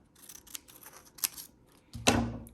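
Scissors snip through a scrap of paper in a few short, crisp cuts, followed by a louder, longer rasping cut close up, with quiet gaps between strokes.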